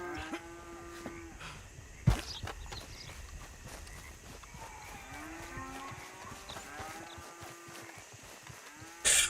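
Cattle lowing in Red Dead Redemption 2 as a rider passes through a herd by a cowshed, several long moos rising and falling over soft hoof clops, with a sharp knock midway and a brief burst at the end.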